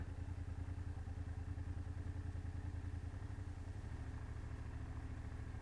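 A BMW F800GS motorcycle engine chugs steadily at low revs during slow-speed riding, a close, even rumble with a faint clattery pulse and no talking.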